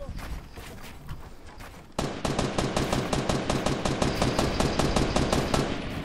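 Rapid automatic gunfire from a video game, sparse shots at first and then a dense, sustained burst of steady rhythmic bangs from about two seconds on, loud and close, with no talk over it.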